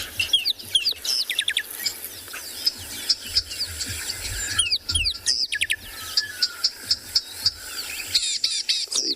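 A songbird gives harsh, scolding calls at sunrise, repeated in quick irregular bursts close by, with other birds chirping in the background.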